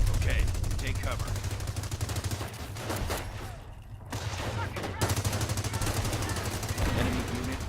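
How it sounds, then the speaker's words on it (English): Artillery strike in the Company of Heroes video game: a dense, continuous barrage of booming blasts and rattling gunfire, loud and sustained, easing briefly in the middle before building again. "Use the artillery strike ability."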